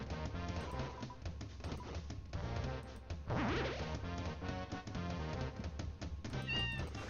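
Cats meowing in the Cat Petters battle of the Deltarune video game, a few high meows over a dense, loud game soundtrack with crashing hits.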